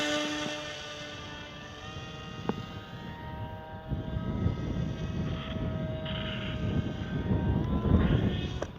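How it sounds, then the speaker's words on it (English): Radio-controlled model airplane flying inverted, its engine a steady droning whine with harmonic tones that swells and fades slightly as it passes, heard continuously at moderate distance with wind noise. "let's try an upside down flight and see how we do."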